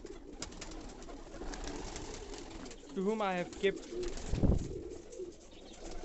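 Pigeons in a loft coo softly in a couple of low, rolling bursts near the middle, with bird rustling and someone speaking nearby.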